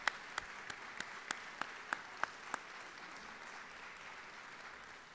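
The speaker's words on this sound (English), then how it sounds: "let's give him a round of applause anyway." A short run of sparse, evenly spaced handclaps at a college convocation ceremony, faint and thin over a quiet hall hiss, fading out after a couple of seconds.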